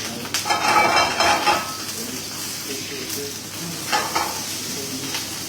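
Sirloin with onion and garlic sizzles in a pan for ampalaya soup, a bright frying hiss with spoon stirring and occasional pan clatter, rising and falling in bursts, close up.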